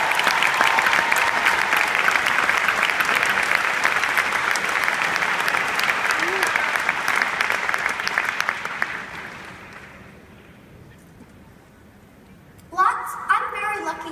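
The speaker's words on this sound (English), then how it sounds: "So let's all give him a round of applause." Audience applause from a crowd at a gathering, loud sustained clapping for about ten seconds that fades out, followed by quiet and a voice starting to speak.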